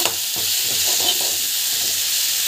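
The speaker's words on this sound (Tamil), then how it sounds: "பெருங்காயம் ஆட் பண்ணிவிட்டு நல்லா வந்து வதக்கிக்கோங்க." Tomato sautéed with asafoetida in a pan, a steady close sizzle and frying hiss with soft stirring scrapes throughout, no talking.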